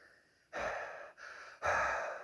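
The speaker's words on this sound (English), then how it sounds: "I'm trying my best to fog these up with heavy breathing" Heavy breaths are pushed into a face mask: two loud, close exhales, then a third, each a rough airy rush with short pauses between.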